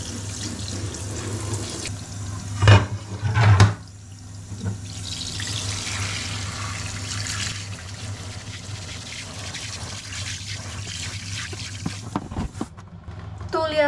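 Running tap water pours steadily into a sink while something is rinsed under it, with a few louder splashes near the start and a constant wash through the rest, close by.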